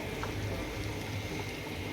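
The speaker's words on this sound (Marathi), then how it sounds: "बघा छान उकळी आलेली" Dal boils in a pot on the stove, a dense, steady bubbling simmer that stays even and close throughout, with no voices.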